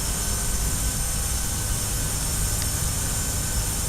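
An F406 Caravan twin turboprop in the FSX flight simulator drones steadily at the stand, a loud, even engine roar with a faint whine above it and no pause.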